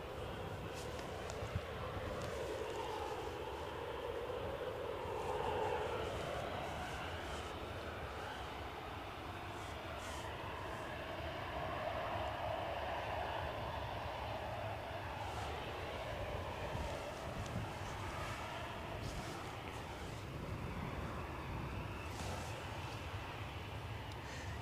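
A passenger aircraft, registration G-FHFX, prepares to depart Edinburgh Airport for Gloucester in gusty 40 mph winds; a steady broadband engine roar and wind rumble hold for the whole stretch, moderately distant with no clear change in level.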